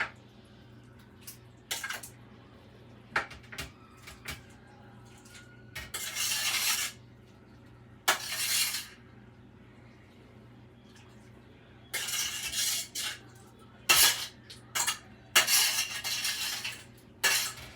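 Slow cooker chicken and dumplings is scraped back into a pan, with intermittent clinks and scrapes of a utensil on cookware and wet sloppy bursts spread across a quiet kitchen.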